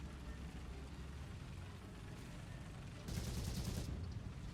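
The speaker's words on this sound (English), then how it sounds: "Just bored, so I'm firing off some MG rounds" Machine gun on a Churchill VII tank firing in War Thunder, a busy rattle of rapid rounds over rumbling engine noise that grows louder and denser near the end.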